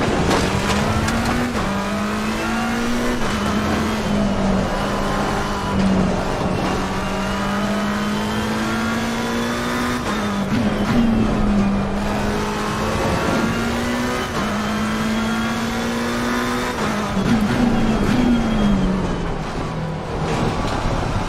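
A DAF truck engine in the Euro Truck Simulator 2 video game drones steadily and loudly through repeated downshifts, its pitch stepping and climbing again at each gear change, with no talking.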